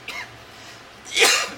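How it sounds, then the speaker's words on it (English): A single cough bursts out near the end while someone cooks mushroom chicken with fried Japanese tofu in a kitchen, short and close over a quiet background hum. "I'm coughing at my food"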